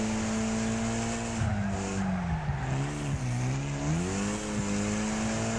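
A Raiden race car in the Wreckfest video game, its engine droning and rising and falling in pitch through a corner with tyre squeal, steady and continuous under power on a final lap.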